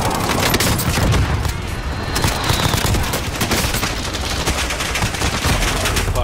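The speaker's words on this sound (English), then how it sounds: "Be advised, friendly position airstrike inbound." Loud airstrike explosions and rapid gunfire in a video game form a dense, continuous barrage of booms and crackling shots, close and relentless throughout.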